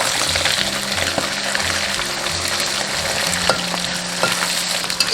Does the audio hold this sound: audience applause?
no